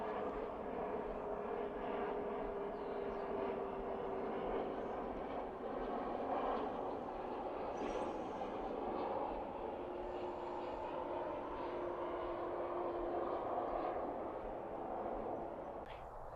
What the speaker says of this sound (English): Looks like the same plane from earlier.